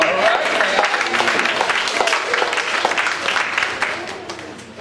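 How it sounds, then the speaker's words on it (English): Church congregation clapping hands together, a dense, continuous burst of applause filling the room with crowd noise, steady and fairly loud throughout. "Give God a hand clap of glory."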